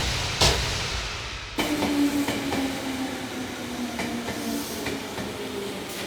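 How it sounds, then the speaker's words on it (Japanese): A down train pulls into a station platform, a loud rolling rumble with clattering wheels, a sustained brake squeal and a hiss after a sharp bang, steady and close throughout. "まもなく下り電車が参ります。"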